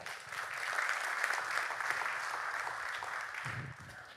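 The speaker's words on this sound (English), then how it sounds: "Make a round of applause for Wayne." An audience applauds a speaker at a talk, a steady crowd clapping of moderate loudness that holds for several seconds and then tapers off.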